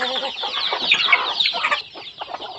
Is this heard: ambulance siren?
no